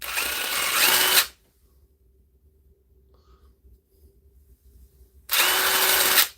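A DeWalt impact driver with a badly wobbling chuck runs in two loud bursts, about a second at the start and another near the end, separated by a long near-silent pause.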